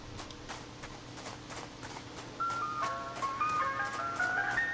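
The Siren Head creature in the Siren Head video game sounds in the distance as a wavering, siren-like wail that rises in over steady low game ambience and rhythmic footsteps, growing somewhat louder toward the end.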